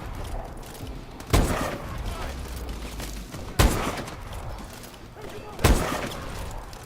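Sniper rifle fire in Call of Duty: Advanced Warfare, three sharp, heavy single shots spaced about two seconds apart over a low rumbling game background.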